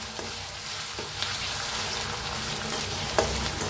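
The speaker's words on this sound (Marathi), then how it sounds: "पेस्ट घातले अद्रक आणि लसणाची मिक्स करून भाजून घेऊया" Ginger-garlic paste frying in oil for a quick chicken dish, a loud continuous close sizzle with a few soft stirring scrapes and taps, no speech.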